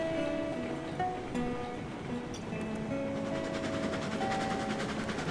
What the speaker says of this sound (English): just cut the throttle off here. Let the train coast.